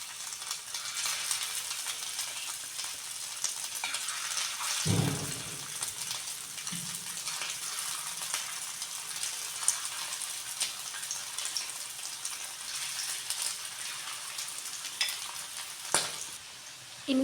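Marinated chicken pieces for chilli chicken fry in bubbling hot oil. A steady, moderate sizzle with fine crackle runs throughout, broken by a couple of brief thuds as pieces drop in or are stirred.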